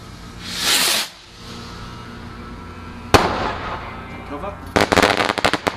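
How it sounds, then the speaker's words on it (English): A firework rocket on Bonfire Night hisses up in a rising whoosh, followed later by a sharp bang and a rapid string of crackling pops, outdoors at moderate distance. "Another little rocket."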